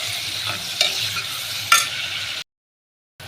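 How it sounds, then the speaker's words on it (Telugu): Onions, curry leaves and green chilies sizzle in a hot pan with a steady hiss, while a spoon stirs them with a few scraping clacks. The sound cuts out briefly near the end. "ఉల్లిపాయ అయితే ఇలా ఎంపానండి."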